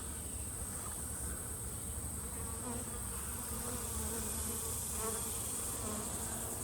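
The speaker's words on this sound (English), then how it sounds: "I see some bees flying around there." A constant, dense buzz of many honeybees around a hive hums steadily, close by and unbroken, with no talking.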